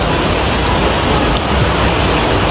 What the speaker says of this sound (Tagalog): walang tigil tong ulan. Tignan nyo naman Palakas ng palakas.